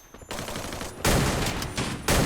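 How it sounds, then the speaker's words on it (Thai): Rapid bursts of M1014 shotgun fire in the battle-royale game Free Fire, loud and close, arriving in three dense clusters of overlapping blasts separated by brief gaps, with no talk over them. "มันยิงเอ็มติก้าใส่ตัวเอง"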